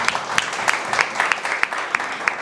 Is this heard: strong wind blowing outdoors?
no